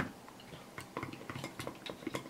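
Tobiko in Kansai-style dashi flavor stirred with utensils in a dish, giving a run of light clinks and scrapes of cutlery against the bowl, fairly close and moderately quiet, with no talking.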